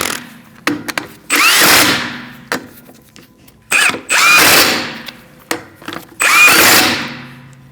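Power tool tightening the wheel lug nuts on a Chevrolet HHR, heard as loud, close bursts of whirring and rattling impact, each lasting about half a second to a second and separated by short quiet gaps.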